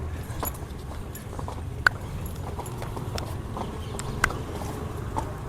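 Hooves of a mare on a pleasure ride clip-clop in a steady, uneven rhythm over constant low background rumble, with a couple of sharper, louder strikes standing out.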